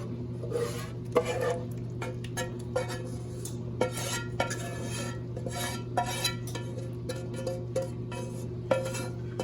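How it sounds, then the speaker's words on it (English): Meat mixture for lasagna is scraped and spread over the noodles with a utensil, giving soft scraping and clinking against the dish over a steady low kitchen hum, with no talk. "Now we're gonna take the rest of the meat mixture"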